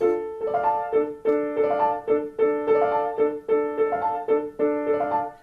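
A repeating left-hand piano figure from Rachmaninoff's Corelli Variations, Variation 17, loops over and over, steady low eighth notes broken by quick triplet sixteenth runs, played alone at moderate volume.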